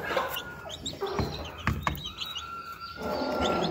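A hen and her chicks clucking and chirping continuously, close by, with busy overlapping calls and a few sharper squawks.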